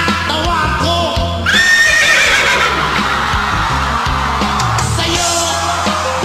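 A man imitates a horse with a loud, close whinnying neigh, shrill rising and falling calls stretched over several seconds, with crowd noise and shouting mixed in behind.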